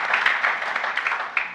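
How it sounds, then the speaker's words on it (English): A crowd claps in sustained, dense applause at an indoor leadership talk event, a steady wash of hand claps without pause throughout. "So let's clap hands for those that are sitting,"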